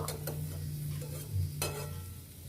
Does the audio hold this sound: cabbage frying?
yes